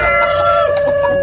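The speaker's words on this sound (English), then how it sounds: "It's a weird looking chicken." At a Canton, Texas trade-days market, a Silver Laced Polish chicken crows and clucks in a steady, close, sustained call over a busy outdoor background.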